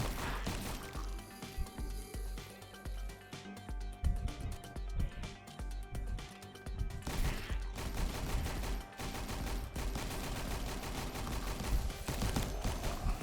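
A machine gun fires in the Roblox game Last Run, with dense, rapid bursts that run almost continuously, close and loud, with brief pauses between volleys.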